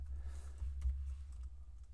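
Faint typing on a computer keyboard, a few soft, close clicks over low background hum, with no talk.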